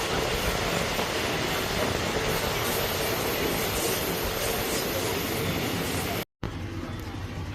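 Steady, loud rumbling and rattling of a train running along the rails on a slope of the Death Railway by the River Kwai, continuous throughout with a brief cut near the end.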